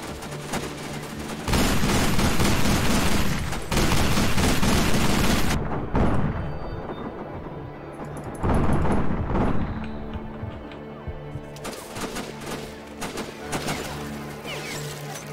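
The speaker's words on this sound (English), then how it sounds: "just look at this clip of me fucking firing a mounted machine gun" A mounted machine gun in the Sniper Ghost Warrior video game fires loud, dense, sustained bursts, with brief breaks and a quieter stretch before the heavy fire resumes and tapers into scattered shots.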